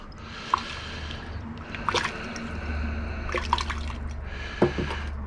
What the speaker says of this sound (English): So I'm just going to give it a bit of a rinse with some hot water.